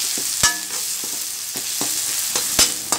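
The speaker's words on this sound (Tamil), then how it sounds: "தக்காளி நல்லா வதங்கிருச்சு நம்ம பட்டாணி சேக்க போறோம்" Tomatoes and potatoes fry in masala for a potato side dish, giving a close, continuous sizzle. Several sharp spoon scrapes and stirs punctuate the sizzle, and no voices are heard.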